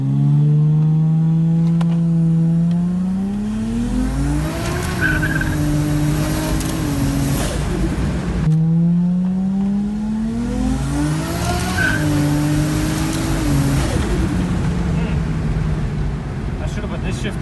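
A turbo-swapped Lexus IS200 with a 1JZGTE engine running E85 and lots of boost accelerates hard twice, revs climbing loudly through the gears with shift breaks, close and continuous.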